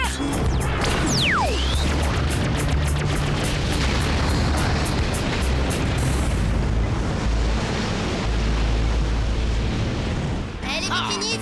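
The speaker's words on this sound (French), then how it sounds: "Il a actionné le canon laser!" A zapping laser blast sweeps downward, then a long, loud roaring explosion with crashing debris rumbles on for several seconds in a Totally Spies! cartoon.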